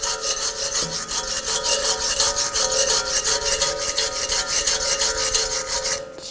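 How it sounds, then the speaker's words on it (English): A wire brush scrubbing rust off the front wheel hub of a 2011-2018 Ram 1500 pickup, a loud, close, steady rasping in quick back-and-forth strokes that goes on for several seconds, with no talk. "And take the wire brush."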